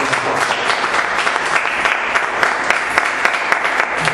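A church congregation claps together at the close of a service, a dense, loud, sustained round of applause from many hands filling the room without pause.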